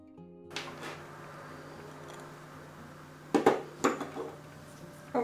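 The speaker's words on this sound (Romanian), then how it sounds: "încep cu să amestec untul cu zahărul" Butter being mixed with sugar in a bowl for a whipped-cream cake dough, a quiet scraping start followed by several sharp clinks and knocks of a utensil against the bowl near the end.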